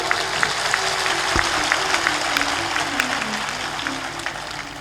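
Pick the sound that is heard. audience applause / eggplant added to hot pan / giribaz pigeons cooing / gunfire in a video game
audience applause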